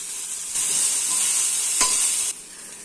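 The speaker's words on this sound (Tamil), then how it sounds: "இப்ப வெங்காயத்தை நல்லா பொன்னிறா ஆற வரைக்கும் நம்ம வறுத்துக்கலாம்." Onions fry with ginger garlic paste and green chillies in a pan, a steady bright sizzle that starts abruptly, holds with a brief stir scrape midway, then drops back to a faint hiss.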